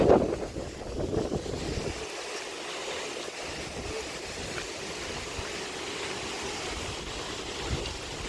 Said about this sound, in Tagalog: Hindi talaga basta-basta yung hangin dito sa Nepal